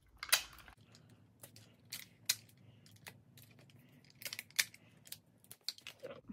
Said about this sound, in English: I'm gonna go ahead and tape these down so that they don't fall off